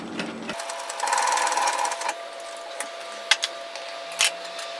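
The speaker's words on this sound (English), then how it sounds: "I'm going to run a gathering thread at 1 centimetre, 3/8 of an inch, just with a longer stitch length than normal" A sewing machine runs a long-stitch gathering thread along a tiered dress seam, a steady mechanical whir lasting about a second, then fading into a quiet room with a few faint clicks and taps.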